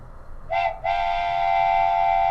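A train whistle blows two tones, a short blast then a long sustained one, loud and close over a low rumbling railway background, with no speech.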